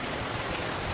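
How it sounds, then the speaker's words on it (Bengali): Heavy rain pours down in a dense, steady, close hiss that fills the brief moment without any other sound. "বাবা কি ধরে বৃষ্টি এসে গেছে রে"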